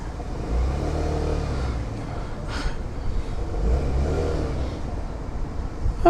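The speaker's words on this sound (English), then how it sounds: "you can actually rev this one a little bit before it wants to go" Sym Jet 4 RX 125 scooter engine idling and revving at close range, a steady mid-pitched motor whir that rises in brief swells, with wind noise throughout.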